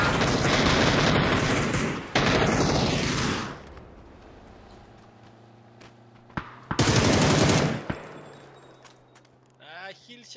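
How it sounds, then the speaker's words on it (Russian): Rapid bursts of gunfire from a teammate in PUBG on the Taego map, loud automatic volleys in two clusters with a quieter gap between them, while a voice talks over the action. "Андрей стреляет"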